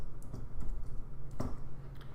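Computer keyboard typing while entering data into R, a few quiet scattered key clicks with a short cluster near the middle.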